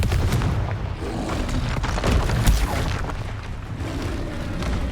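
A Confringo blasting spell in the Hogwarts Legacy video game goes off in a burst of deep booms and sharp cracking blasts, loud and rumbling, several impacts packed together with a heavy low-end thump near the middle.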